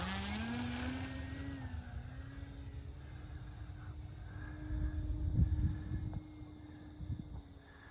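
An electric E-flite Slow Ultra Stick RC plane takes off on low rates, its motor whine rising and then holding a steady drone, with a brief rumble of ground noise partway through, heard from near the pilot.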